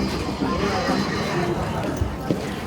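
A horse neighs loudly and close by at a livestock bazaar in Sokuluk, with a crowd's babble and people talking around it.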